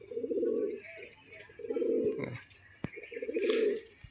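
A Giribaz pigeon coos in three repeated low throaty phrases, close but fairly soft, with faint chirps from other birds and a few small knocks between the calls.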